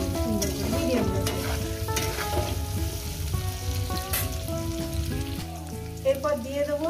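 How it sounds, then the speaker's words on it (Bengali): Potatoes fry with salt in a pan over a medium gas flame, giving a steady close sizzle and crackle throughout, with occasional stirring scrapes and faint background voices. "এইটা আমি আলুটাকে সুন্দর করে ভেজে নেব, আর এই ভাজার মধ্যে দিয়ে দেবো লবণ।"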